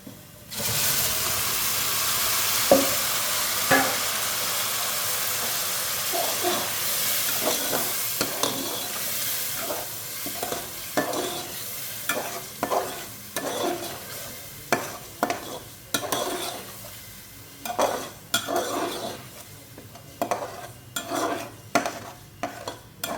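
Chopped tomato, ginger, garlic and green chillies sizzle in hot oil with browned onions, stirred steadily with repeated scrapes and clacks of a spoon against the pot over a constant frying hiss, close and fairly loud.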